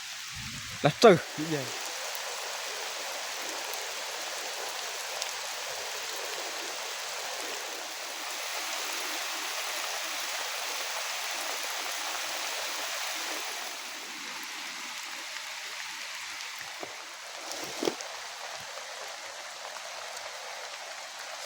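Heavy rain falls steadily on a rural farm in Thailand, a constant hiss that runs the whole length with a few brief knocks and a voice speaking near the start.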